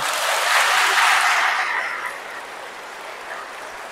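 Applause from a congregation at a Catholic Holy Spirit seminar, a broad hiss of many hands clapping, loudest early and then fading to a softer sustained patter, heard alone without speech.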